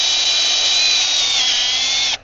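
A power drill bores into armor plating from on top of a Kenworth logging truck, a loud, steady, high whine held without a break that cuts off abruptly at the end.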